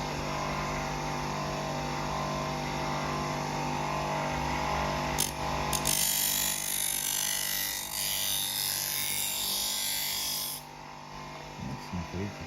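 A bench grinder running steadily while a wet knife blade is pressed to the grinding wheel, giving a bright hissing scrape over the motor's constant hum for several seconds before easing off.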